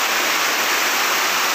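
The Dawkhol Upale waterfall, near where a river rises, makes a loud, steady, broadband rush of falling water heard close by, an unbroken roar with no voices.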